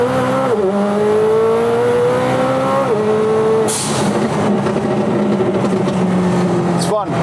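A 720-horsepower Nissan GT-R accelerates hard on a road test, its engine climbing steadily through gears with shifts, loud and close throughout.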